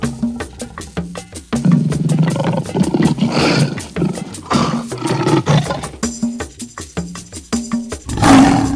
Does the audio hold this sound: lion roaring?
yes